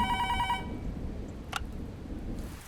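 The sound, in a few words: telephone ringing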